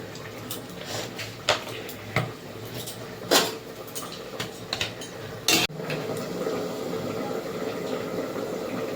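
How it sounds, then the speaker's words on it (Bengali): A wok (kadai) is set down on a gas stove, with scattered metallic clinks and knocks of the pan, then white oil poured in and a soft steady sizzle-like hiss filling the second half. "কড়াই বসিয়ে দিয়েছি, গ্যাসে দিয়ে দেব সাদা তেল"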